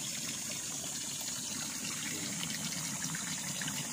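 Spring water flows steadily beside a river on a farm lot in the Philippines during the dry May season, a constant, even rushing gush that is close and unbroken, with no voices.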